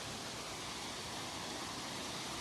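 Big waterfall at Black Clough, heard as a faint, steady broadband rush of falling water with no pauses, distant and unbroken.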